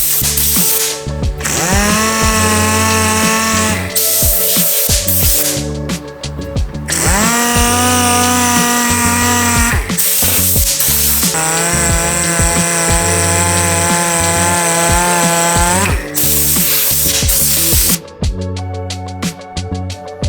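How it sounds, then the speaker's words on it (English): A power sander works clear coat on a Toyota hood, a loud continuous whine with steady harmonic tones that rise and fall as it starts and stops across several long passes. "this stuff sands so quick"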